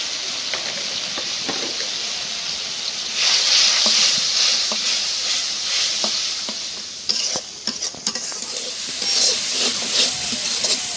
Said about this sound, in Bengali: মশলাটা ভালো করে কষাই নিলাম